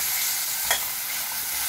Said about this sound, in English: continue stirring till tomato becomes completely cooked and loses its shape